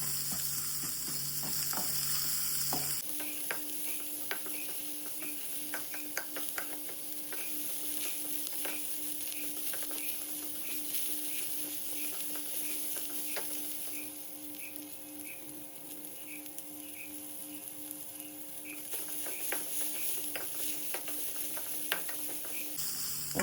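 Two onions and coconut roast in a pan for kalwa xacuti, giving a steady, close frying sizzle with light scraping stirs throughout.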